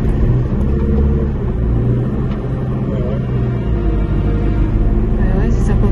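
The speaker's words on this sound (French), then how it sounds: "Oh là là, ça patine grave." A four-wheel-drive car's tyres spin and slip in thick mud on a dirt road near Bryce Canyon, a steady loud engine rumble and churning drone running unbroken throughout.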